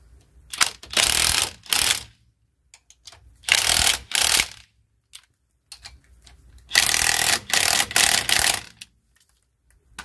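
A ratchet wrench torques a bolt on a 1977 Trans Am in rapid clicking bursts. Four separate runs of loud, close ratcheting are separated by short pauses, with no voices.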